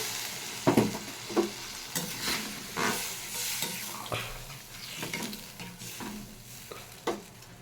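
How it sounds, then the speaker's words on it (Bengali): Well-cooked masala with a little dried fenugreek sizzles in a pan as water goes in and a spoon stirs, with repeated scraping strokes over a soft hiss and no talk. "মশলাটা খুব ভালো করেই কষা হয়ে গেছে, দিয়ে দিচ্ছি এর মধ্যে জল।"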